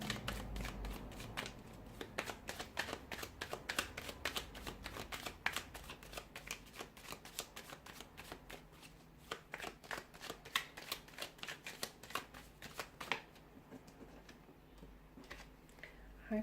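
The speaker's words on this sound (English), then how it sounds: "we'll give the cards a shuffle" A deck of tarot cards being shuffled by hand, giving a long run of quick, crisp riffling flutters and soft taps that keep up steadily and close by, with no talking over them.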